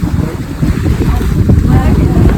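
A boat rides over sea waves near Nivati, with steady close wind buffeting and rushing water and splashes throughout the short stretch.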